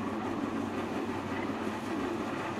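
A train rumbles in the video game Promesa, a steady loud low roar with a faint rattling texture that continues unbroken and has no talk over it.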